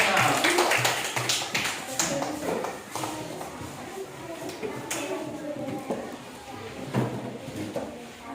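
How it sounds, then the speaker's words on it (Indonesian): A classroom of pupils gives a round of scattered hand clapping for group 6, the claps loud and busy at first and then thinning out, with voices talking over it. "kita berikan tepuk tangan untuk kelompok 6"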